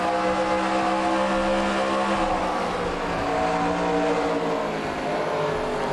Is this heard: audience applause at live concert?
no